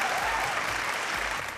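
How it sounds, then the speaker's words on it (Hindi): On a TV reality show set, a studio audience gives loud, dense applause that holds steady as a continuous wash and then begins to taper off near the end. "जोरदार तालियां आनंद जी के लिए।"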